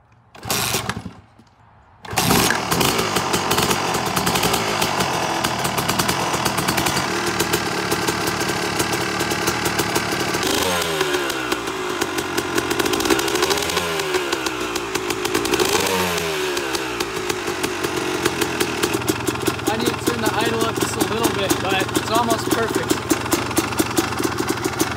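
A Yamaha YZ250 two-stroke dirt bike with the choke on fires up after a few kicks, then crackles at a loud, close idle with several sharp revs rising and falling.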